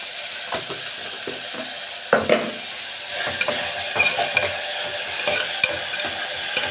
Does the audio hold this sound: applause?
no